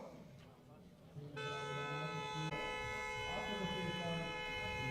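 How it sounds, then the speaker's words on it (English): A sustained siren tone sounds alongside a loud, droning background at Biķernieki racetrack in Riga, Latvia, during a motor racing championship, with a second tone joining partway through; talk is faintly audible. "So you can hear the sirens"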